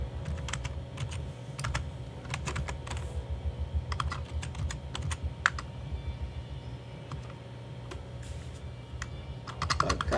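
Keystrokes on a computer keyboard tapping in irregular quick bursts with short pauses, close and fairly clear over a low steady room hum, with no talking.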